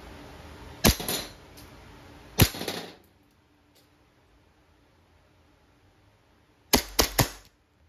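A WE 1911 Type B airsoft pistol fires in sharp, close cracks: a couple of shots with hissing gas bursts, a quiet pause, then a quick final pair.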